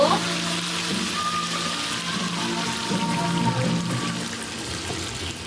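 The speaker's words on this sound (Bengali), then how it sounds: "আমি এখন ওখানে পানি দিয়ে দিব" Water poured into a pot of cooking country chicken curry, a steady rushing splash and sizzle running throughout at close range, with no talk over it.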